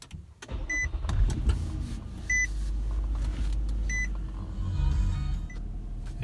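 A Nissan Murano engine starts and settles into a steady idle, with a low continuous rumble and a few short electronic beeps near the start.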